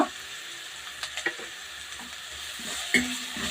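Greens frying in a pan, a steady low sizzle with a few stirring knocks and scrapes, close and fairly quiet with no talk.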